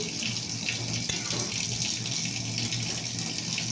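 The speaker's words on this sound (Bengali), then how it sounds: "একটু জল পরিমাণ দিয়ে দিলাম" Water poured into a cooking pot, a steady continuous splashing gush heard up close for several seconds without pause.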